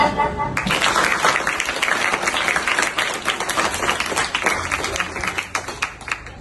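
Loud, lively clapping from a crowd at an environmental tree-planting campaign event, many sharp hand claps merging into steady applause that starts abruptly and thins toward the end.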